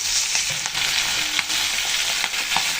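Baim eel pieces fry in hot oil with a steady, dense sizzle, broken now and then by stirring scrapes and small pops, close and loud with no voices.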